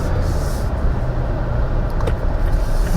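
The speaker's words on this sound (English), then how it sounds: "We're hitting some bumps here, which is awesome." A 2021 Toyota Tacoma Limited 4x4 pickup rumbles over bumps, heard from inside the cab as a steady low road and engine drone with occasional thuds and rattles.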